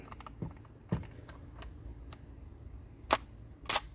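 A Springfield Armory M1 Carbine CO2 blowback air gun fires outdoors, giving sharp, close snapping shots with mechanical clicks and handling noises between them and no talk.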